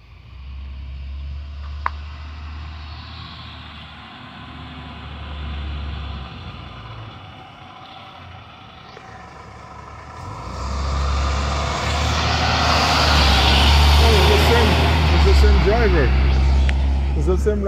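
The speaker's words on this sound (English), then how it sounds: "The bus is here." A 2003 IC CE school bus pulls up with a deep diesel engine rumble that idles low and then swells louder and closer. A short sharp burst near the start may be an air brake hiss. Voices are heard throughout.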